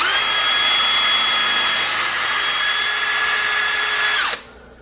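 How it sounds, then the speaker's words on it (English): A power drill bores a hole in a dirt bike part, a loud steady whine held close and alone for about four seconds before spinning down abruptly. "So I'm gonna need to drill this hole right here as well as this hole right here."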